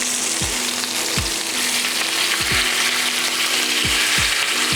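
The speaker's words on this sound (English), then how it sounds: "And I put my chicken in skin side down and try and do it so that it's away from you." Chicken pieces fry skin side down in a hot pan, a loud continuous sizzle with recurring lower thumps and scrapes, close and steady throughout.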